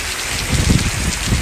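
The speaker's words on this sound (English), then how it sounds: "We got torrential rains right now" Torrential rain pours down heavily in a rural province setting during a flood, a dense, loud, unbroken hiss of water striking surfaces close by.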